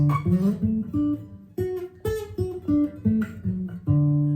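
Notes on a Martin SC13e guitar picked one after another in a rolling arpeggio pattern, clear and close, ringing with no voices.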